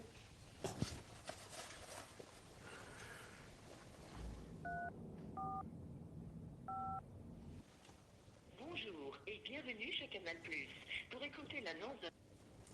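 Telephone keypad tones dialing customer service, three short separate beeps heard faintly between stretches of talk and background noise.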